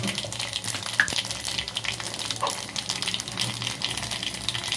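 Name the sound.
garlic, mustard seeds and cumin sizzling in hot ghee and oil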